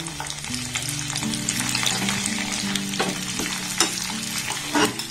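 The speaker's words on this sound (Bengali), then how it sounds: "গ্যাসের ফ্লেমটাকে একদম লো রেখে এগুলোকে একটু আলতোভাবে নাড়াচাড়া করে ভেজে নেব।" Peanuts, raisins and green chilies fry gently on a low flame, producing a steady close sizzle with soft scraping stirs and a few sharper clicks as they are moved about.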